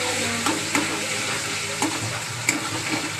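Ginger garlic paste sizzling steadily in a hot pan, with soft stirring scrapes and small pops, close and alone without talk.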